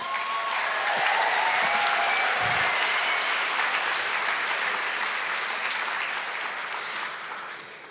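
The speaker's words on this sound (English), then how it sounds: "You may clap hands for yourselves, guys." Graduates at a law, military science and theology graduation ceremony clap for themselves in a large hall, a broad, sustained wash of applause that fades slightly toward the end.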